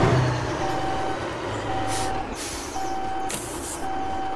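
A truck reverses in the Alaskan Road Truckers video game, steady warning beeps repeating at even intervals over a low diesel rumble, with two sharp hissing bursts of air brakes released between beeps.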